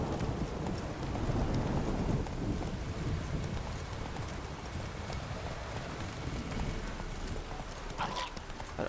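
Hooves of a horse galloping in The Witcher 3 video game beat in steady clip-clop rhythm over a rain-like background wash, fairly loud and continuous throughout.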